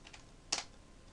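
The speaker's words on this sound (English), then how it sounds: "I'm just typing stuff in, seeing what comes up" A single keystroke clacks on a computer keyboard, up close and fairly quiet, with two fainter taps just before it.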